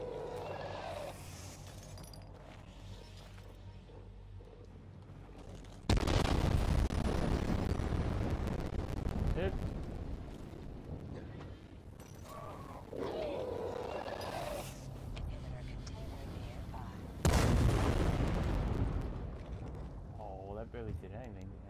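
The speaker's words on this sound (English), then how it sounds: "Explosion radius was not as good as I thought it would be." Explosions go off in the video game Dying Light 2 as sudden loud booming bursts, two big blasts with rumbling tails. Quieter game ambience and effects lie between them.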